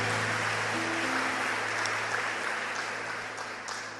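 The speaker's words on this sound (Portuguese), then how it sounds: "Dê um aplauso para o Senhor" A church congregation applauds in a steady wash of fairly soft clapping that holds for a few seconds and then slowly thins out.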